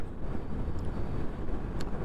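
Cool wind rushes past on a high-altitude motorcycle ride, a constant blustery hiss buffeting the microphone with small swells in strength and no talk over it.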